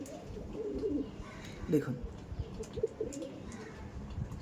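Andhra breed pigeons coo in bursts at a loft sale in Behala. The calls come as low throaty pulses, fairly close, with a voice talking over part of it.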